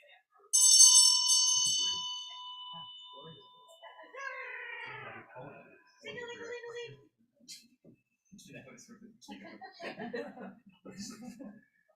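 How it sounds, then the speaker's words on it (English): A single bell rings loudly at an afternoon gathering in Rochester, New York, giving one clear struck tone that slowly fades over about two seconds, followed by voices and chuckling. "Everybody jumps when they hear the bell."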